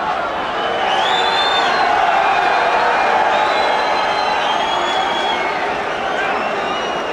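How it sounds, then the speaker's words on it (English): Boxing arena crowd at the Ray Mercer vs Tommy Morrison fight roars steadily as Donald Trump arrives with Marla Maples. The murmur is broad and continuous, with scattered whistles and whoops over it. "that little roar of the crowd was the arrival of Donald Trump with Marla Maples"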